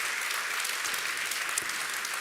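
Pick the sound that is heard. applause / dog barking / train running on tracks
applause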